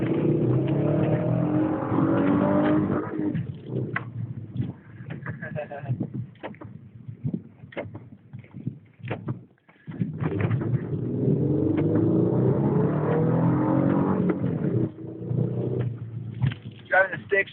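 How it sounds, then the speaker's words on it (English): A manual-transmission car peels out in a street in the rain, its engine revving loudly and roughly in two long bursts with a quieter stretch between, while someone talks over it. "I'm gonna do a fucking peel out right here in the middle of the street."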